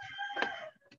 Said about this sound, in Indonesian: Itu tadi ada suara ayam tuh ya.